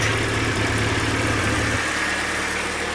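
Idling engine of a red Honda Civic RT 4WD with a V1686 motor and automatic transmission, a steady low rumble that drops lower and quieter partway through, with no talk.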